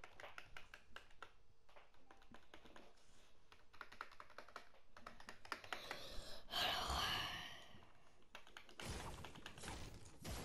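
Computer keyboard typing in uneven bursts of close, soft clicks and taps, with a louder rustle in the middle and brief pauses between runs.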